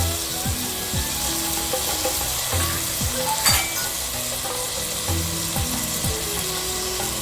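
Tomatoes with a little salt sizzle and fry steadily in a pot for cooker egg biryani, with a spoon scraping and stirring in a regular rhythm roughly every half second, close and fairly loud.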